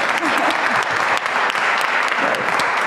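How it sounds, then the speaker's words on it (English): Audience applause at an event at Union Theological Seminary in New York, steady, dense clapping from a large crowd filling the whole stretch without a break. "applause."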